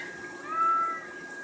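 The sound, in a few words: cat meowing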